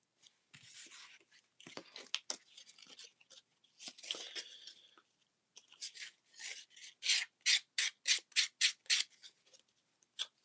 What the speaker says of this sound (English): I need to sand down the edges I already did like a cute little double coat of edge paint